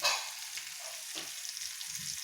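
Ridge gourd (torai) cooks in a covered pan with cumin and asafoetida, giving a soft, steady sizzle with faint stirring scrapes throughout and no voices.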